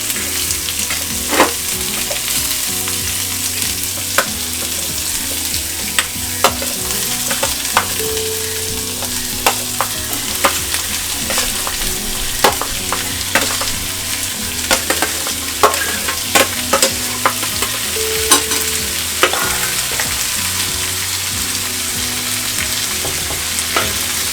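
Cabbage vegetable filling for a homemade veg frankie stirred in a frying pan over low heat, with steady sizzling and repeated scraping strokes of a spoon across the pan throughout.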